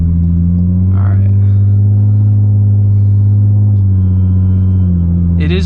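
Steady low exhaust drone from a Lexus GS350 F Sport sedan while driving, a constant deep hum that dips slightly near the end, with a brief rise in pitch at the close.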